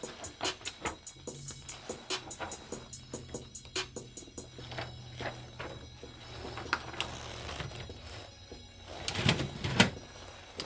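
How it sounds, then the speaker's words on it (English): A desktop printer prints a color separation onto transparency film, giving a steady series of rhythmic mechanical clicks and ratcheting feed sounds, close and fairly loud, with a busier burst of clatter near the end. "Put another sheet in this printer."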